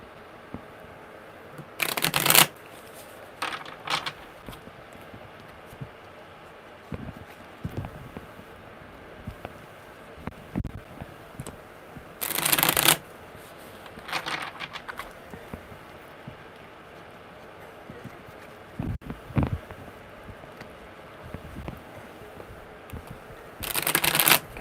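Tarot cards are shuffled in several short, crisp bursts of riffling and slapping, separated by quiet pauses, close and fairly soft.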